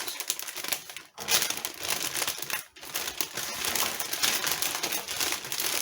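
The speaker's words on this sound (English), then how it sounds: "I've cut some hamper wrap. I'm just going to bring in the sides first." Hamper wrap being folded in by hand around the sides of a Christmas gift, giving steady, close crinkling and crackling that runs almost continuously, broken by two brief pauses.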